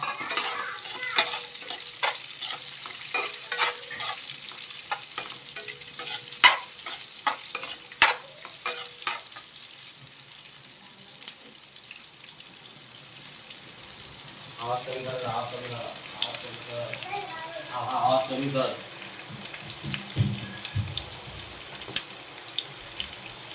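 Garlic and chopped onion sizzle and fry in a pan for Indian-Chinese paneer chilli, a soft steady crackle with stirring clatter and a running tap nearby, while someone speaks over it.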